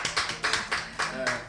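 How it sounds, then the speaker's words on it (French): Audience applause for a singer during a radio broadcast, with a few distinct claps in an uneven rhythm close by and a voice speaking over them. "Aidez-moi à applaudir cette grande dame"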